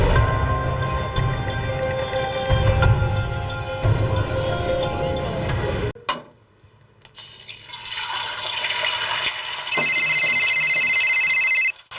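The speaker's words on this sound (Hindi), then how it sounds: "देखना तेरा फोन बज रहा है।" A mobile phone ringing in a quiet indoor scene, a steady repeating electronic ring tone that starts after a short pause and continues loudly to the end.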